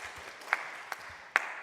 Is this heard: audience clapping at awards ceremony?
yes